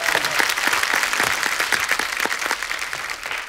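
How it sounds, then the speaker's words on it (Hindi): A studio audience on a TV comedy show gives Master ji a burst of vigorous applause. The thick, continuous clapping fills the whole moment at an even, lively intensity. "एक बार मास्टर जी के लिए जोरदार ताली मास्टर जी।"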